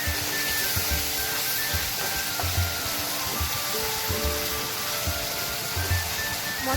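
Spice paste for a Bengali jackfruit curry frying in a pan, giving a steady broad hiss and sizzle that holds evenly throughout, with soft low thumps of stirring underneath.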